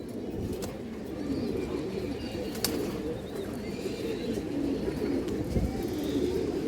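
Domestic pigeons, including breeding hens, coo in a low continuous murmur at close range, forming a steady dense layer of sound with no talking.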